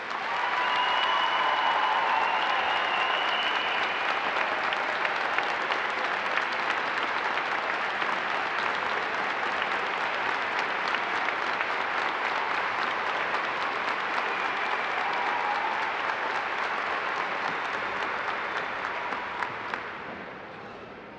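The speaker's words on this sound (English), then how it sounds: "Please give them one more round of applause." Sustained audience applause fills a high school honors and awards ceremony, a steady dense clapping that holds at full strength for about twenty seconds before tapering slightly at the end.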